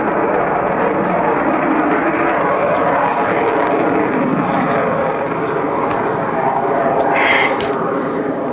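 F-18 jets make a high-speed, low-altitude crossover at an air show, producing a loud, sustained, roaring rumble of jet engines that fills the whole stretch without letup.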